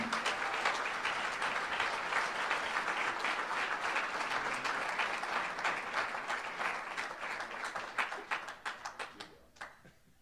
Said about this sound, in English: please give a big round of applause to 2014 Georgetown College Athletics Hall of Fame inductee, Shane Pearson.